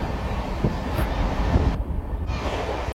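Amrit Bharat Express train running near Kharagpur, a steady rumble of wheels and wagon noise with wind buffeting the microphone throughout, loud and continuous, cutting out abruptly at the end.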